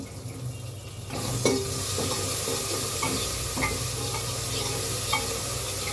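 Loud, continuous sizzling and crackling as spices hit hot oil in a pan to temper yellow dal, with a few clinks of utensils against the metal.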